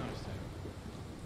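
Rumbling thunder from a lightning storm in the video game Mark of the Ninja, a brief, dense, low roll with a rain-like hiss, loud and filling the whole moment.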